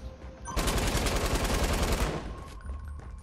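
Rapid automatic gunfire from the video game Fortnite, a dense burst of shots lasting about a second and a half, loud and close, then trailing off into quieter game sounds.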